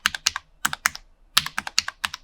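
WASD keys pressed on a Cherry MX LP2.1 compact wireless low-profile gaming keyboard: quick, close, crisp clacks in short irregular bursts, about a dozen strokes alone in a quiet room.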